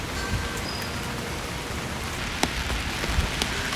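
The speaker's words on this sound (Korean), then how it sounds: "아침에 비가 오는데" Morning rain on a chilly late-summer day, falling steadily in a constant close hiss with a few sharper drips and taps on a surface, and no talking.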